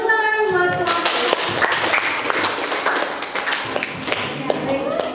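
A classroom of students claps for a group after its presentation, a dense burst of close, fast hand claps filling the room, with a few voices mixed in.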